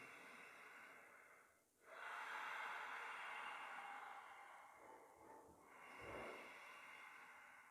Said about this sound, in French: c'est la respiration Ujjayi ou la respiration océan